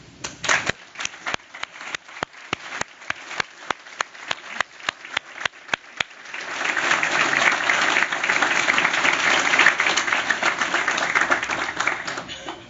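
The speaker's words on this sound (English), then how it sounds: "join me in applauding your family and friends who have supported and encouraged you" Audience applause at an Executive MBA graduation recognition ceremony: a few scattered loud claps at first, then a full, sustained round of clapping from a large crowd filling the hall.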